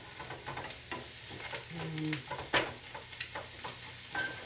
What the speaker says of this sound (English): And stir it up. See, it gets enough saute in with the cooking